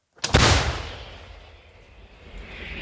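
One heavy shot from an M777 howitzer booms suddenly after a brief silence on the Zaporizhzhia front, then a long rolling rumble fades slowly, loud and somewhat distant.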